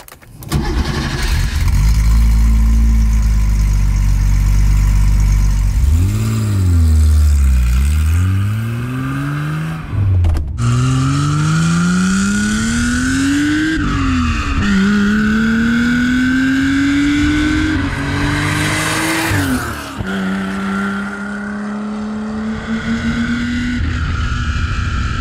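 A Porsche 911 Rennsport with a 3.2 litre flat six starts up, then revs hard through several rising gear pulls with shifts between them, loud and close throughout.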